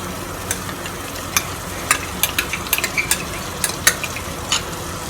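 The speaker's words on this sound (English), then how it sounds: "Let the butter melt." Butter melting with honey in a pan over a medium flame gives a low steady sizzle, broken by scattered sharp clicks and taps of a utensil against the pan, with no talking.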